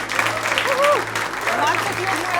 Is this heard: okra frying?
no